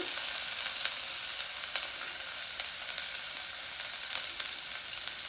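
Steamed corn sizzles steadily in a hot pan with garlic and ginger, a bright continuous frying hiss with faint stirring ticks, close and alone.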